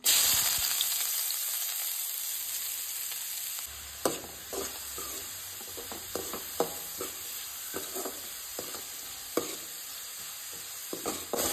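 Finely chopped onion hits hot oil with whole spices, green and black cardamom among them, for a Goan prawn biryani; a steady loud sizzle hisses throughout, broken by scattered stirring clatters and scrapes.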